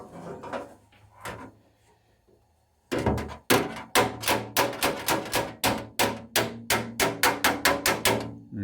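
A hammer pounds metal parts of a vintage Tourist camp stove under restoration, about a dozen loud, close, sharp blows in a steady rhythm after a few quieter knocks.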